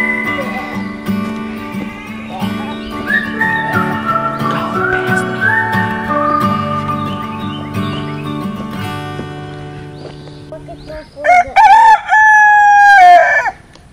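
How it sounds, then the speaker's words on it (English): Homestead chickens on a farm, with a rooster giving a loud, close crow in the last few seconds after a long stretch of steady, droning tonal sound; no clear clucking stands out. "Let's bring these chickens some treats and collect some eggs."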